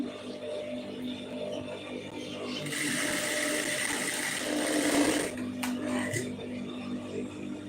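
An electric sewing machine stitches the hem of a blouse, its mechanical whir running in a steady burst through the middle, surrounded by softer handling of fabric and a few clicks.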